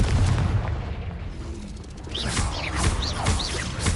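A Confringo blasting spell detonates in Hogwarts Legacy as a deep booming explosion, loud and close, followed by rumbling debris and several sharp crackling bursts.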